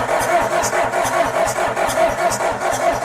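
A John Deere 310 backhoe diesel engine with a fuel delivery fault cranks over steadily in a fast, even churning rhythm without catching, loud and close for the whole stretch.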